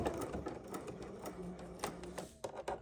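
A sewing machine takes a few stitches forward and then in reverse, giving a close, rapid rhythmic clatter of needle strokes with short pauses between bursts, and no talking.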